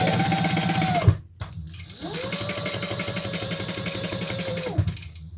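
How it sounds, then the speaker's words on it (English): Sewing machine top stitching a handbag, running in two close, loud bursts of rapid whirring stitches separated by a short pause. "we're just going to do the top stitching and everything just like we normally do"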